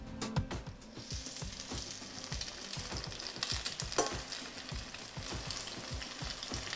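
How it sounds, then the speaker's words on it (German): Steady crackling sizzle of zucchini fritters frying in hot oil in a pan, with scattered pops and the occasional scrape of a utensil, continuous and close. "Die Zucchini-Puffer werden jetzt etwa 3 bis 4 Minuten pro Seite goldbraun gebraten."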